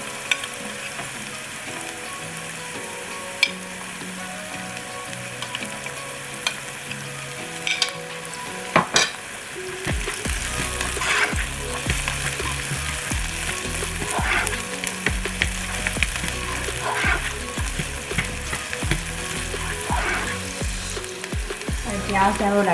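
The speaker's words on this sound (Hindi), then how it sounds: "इसे 2 मिनट तक हम फ्राई करेंगे।" Garlic and onions frying in a pan, a steady close sizzle with occasional stirring scrapes and clatters, no talk.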